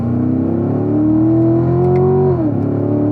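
A car engine accelerates loudly on the Spring Mountain Motor Resort race track in Pahrump, Nevada. The engine note climbs steadily and close, then drops briefly at a gear change and rises again.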